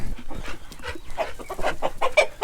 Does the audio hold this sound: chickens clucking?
yes